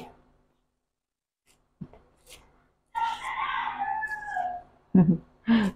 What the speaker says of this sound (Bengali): এই বাসার মুরগিটা শুধু ডাকে।